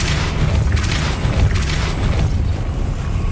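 A Depulso force spell blasts in Hogwarts Legacy, a loud, boomy low rumble sustained across the whole moment with a few sharper bursts layered on top, no voices present.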